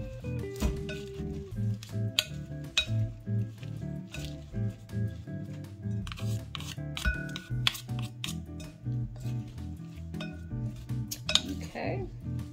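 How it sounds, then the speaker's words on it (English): Salad of lettuce, cucumber and tomato tossed with poppy seed dressing, utensils clinking and scraping against a bowl in a busy, irregular clatter, close and fairly quiet. "add a little bit of that poppy seed dressing. And then I can go ahead and mix it up"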